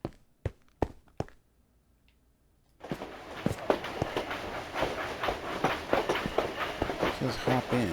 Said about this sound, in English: Hop in and drive the train.